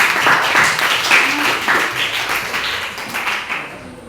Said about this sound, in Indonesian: tepuk tangan untuk Brilian